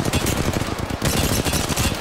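Gunfire in the video game Apex Legends: a dense, loud, close burst of rapid automatic shots rattling continuously for about two seconds, with no talking.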